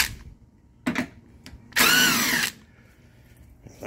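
A power tool zings in 18 millimeter bolts while a spare tire carrier is installed on a Hummer H2. A few brief mechanical clicks come first, then one loud, close burst of spinning lasting under a second.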